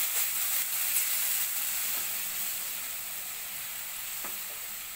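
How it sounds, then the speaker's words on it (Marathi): Yogurt and spices with onion sizzle steadily in a hot pan for dahi bhindi, a continuous bright frying hiss with faint stirring scrapes, gradually easing slightly, with no talking. "दही आणि मसाले हे सगळं घालून घेऊया। छान याला परतून घेऊया।"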